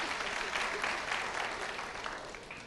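Audience at a university graduation convocation applauding, a dense steady wash of many hands clapping in a large hall that tapers slightly toward the end.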